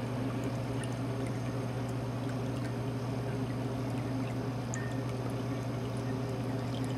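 Water trickles steadily through a cat drinking fountain, a continuous soft splashing flow over a low, constant pump hum, heard close and alone without any voices.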